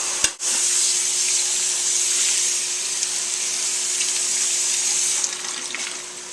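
Tap water runs steadily over cooked pasta being rinsed in a kitchen sink, a close, continuous hissing spray that starts after a brief clunk and eases near the end.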